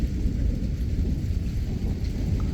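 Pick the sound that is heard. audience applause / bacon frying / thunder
thunder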